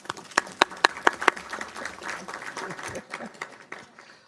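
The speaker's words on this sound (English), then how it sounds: "Give her a round of applause." A few sharp, separate claps ring out at a political event, followed by scattered, thinner applause mixed with crowd murmur and voices in the room.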